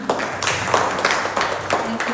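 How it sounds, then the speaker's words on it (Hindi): A church congregation applauds one another after joyful worship and dancing, a steady spread of hand clapping close by with rhythmic bursts running under the whole moment. "तो एक दूसरे के लिए सभी हम लोग ताली बजाएगा।"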